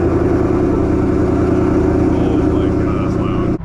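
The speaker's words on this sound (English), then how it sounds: "let's go ahead and get a little cold start in the garage." A 2020 Ford Mustang GT V8 idles loudly and steadily after a cold start in a garage, a deep continuous rumble that holds for a few seconds before cutting off abruptly at the end.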